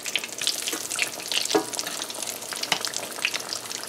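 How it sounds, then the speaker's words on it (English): Fish cakes frying in a pan give off a steady, close hiss and crackle throughout, with a few brighter pops and the occasional scrape of stirring. "Now we're gonna fry these two here first."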